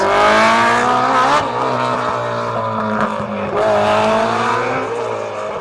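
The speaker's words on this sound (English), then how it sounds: "That was John Marshall in his BMW. A beautiful looking car and fantastic sounding, so unique." John Marshall's BMW rally car blasts past on a special stage on the Isle of Mull, engine howling loud and close, with sharp gear changes and rising revs as it accelerates away, no speech.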